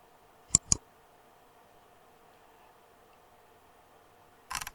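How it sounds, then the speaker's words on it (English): A computer mouse clicked or its wheel scrolled while working on a PC: two quick, crisp clicks close together, then a short burst of ticks a few seconds later, close and clear in near silence. "you can zoom in and out on the plus and minus buttons, or you can use the wheel on the mouse"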